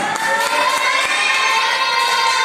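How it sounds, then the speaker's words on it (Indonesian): Children in a classroom cheer and shout together in one sustained, loud burst, with scattered claps mixed into the noise of the crowd. "Boleh tepuk tangan"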